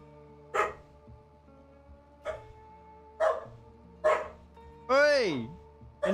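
Dogs bark in a farming game, several sharp separate barks spaced about a second apart, then a rising yelp-like howl near the end, fairly close over a low steady hum.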